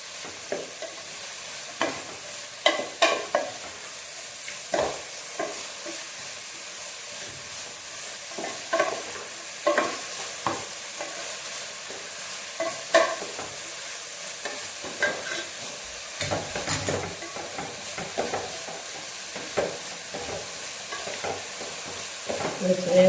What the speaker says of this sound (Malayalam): അതുവരെ നമുക്കിതൊന്ന് ഇളക്കി കൊടുത്തുകൊണ്ടിരിക്കാം